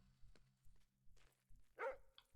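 A dog barks in the puzzle game Lorelei and the Laser Eyes: one short, faint, close bark stands out after soft rhythmic footsteps over a low hum.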